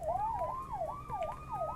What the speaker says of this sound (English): Then we get our siren.